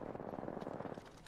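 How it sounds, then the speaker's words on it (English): Apex Legends gunfire crackles in a quick run of automatic shots, fairly faint and slightly distant, rattling rhythmically for just over a second. "Shooting over here."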